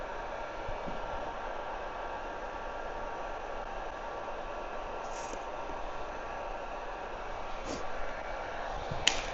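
A heat gun blows a steady, even rush of hot air over headlight tint film on a Ford Mustang, a constant hiss with only faint small clicks, with no variation throughout.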